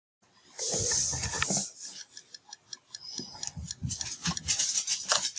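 Scissors trim excess fabric from a joined quilt-as-you-go log cabin block, with close, crisp snipping and cutting in a rapid, ticking series of short strokes, heard alone.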